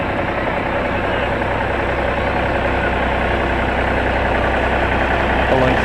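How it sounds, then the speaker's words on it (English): A Ford tractor idles as it rolls along in a Fourth of July town parade, a steady low engine rumble held at even loudness beneath crowd murmur and nearby talk. "Now we have a Ford tractor."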